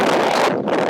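Wind blowing across an outdoor golf driving range, buffeting the microphone in a loud, rough burst of rumbling noise that dips briefly, with no talk.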